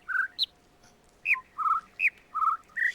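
Birdsong in The Witness: a sequence of about eight short clear whistled notes, rising and falling in pitch, spaced irregularly against near silence, close and bright.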